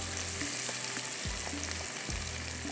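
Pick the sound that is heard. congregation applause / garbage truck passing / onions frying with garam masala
onions frying with garam masala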